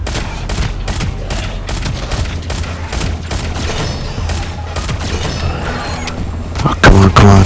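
Rapid, steady pistol fire in the mobile shooter Shadow Gun Legends, dense cracking shots repeating almost continuously over a low rumbling game backdrop, ending in a louder burst of heavier booms.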